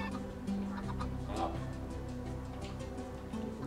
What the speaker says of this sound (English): Are you throwing chickens at me? Eggs.